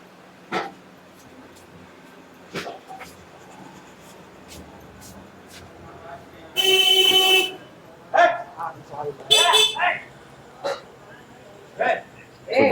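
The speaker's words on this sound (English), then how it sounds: "So that's what we call as a mini traffic jam." Car horns honk in a congested night street in Varanasi, scattered short toots and a couple of longer blasts at varying distances over a low traffic murmur.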